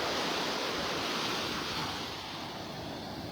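Ocean waves wash onto the beach at Pelican Bay in North Naples, Florida, a steady broad surf hiss that is fairly faint, softening slightly toward the end, with no voices.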